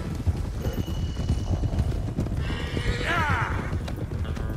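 Mustang horses in the Red Dead Redemption II video game clop along steadily with hooves thudding throughout, and a loud whinny rises partway through while a voice talks over the herd.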